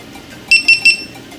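A GoPro HERO 4 camera beeps as it powers on: three short, evenly spaced electronic beeps, close and clear over faint room noise.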